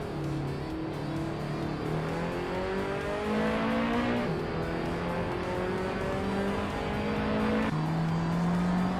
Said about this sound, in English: Brogsworth is driving a 2002 Honda Integra Type R, known for its sharp handling and lightweight design